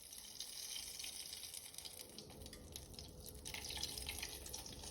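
Hot water poured out of a cooking pot into a bowl while making shrimp and grits, a continuous soft splashing stream that runs steadily for several seconds, faint and close.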